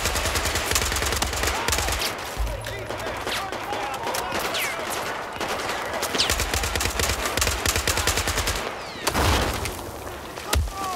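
Rapid automatic gunfire rattles from every direction during a Battlefield 4 campaign firefight in Shanghai, with dense bursts and scattered single shots continuing loudly and nearly without pause.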